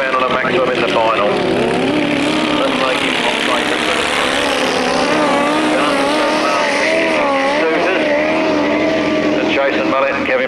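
Grasstrack racing motorcycles sweep round a turn at a 1991 meeting, engines loud and continuous with wavering, rising and falling pitch, while a commentator talks over them.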